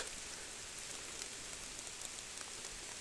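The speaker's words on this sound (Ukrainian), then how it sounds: "дощ липаше." Rain pours steadily, a dense broadband hiss with scattered drop patters, even in level and fairly faint, with no talk.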